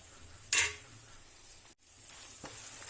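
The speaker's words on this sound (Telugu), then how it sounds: "మనం జింజర్ గార్లిక్ పేస్ట్ వేసుకుందాం. ఇది కొంచెం ఫ్రై అవ్వేద్దాం." Ginger garlic paste frying in a pan, with a sharp burst of sizzle as it hits the hot oil, then a steady soft hiss and a brief stir, no talking.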